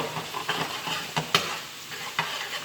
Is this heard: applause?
no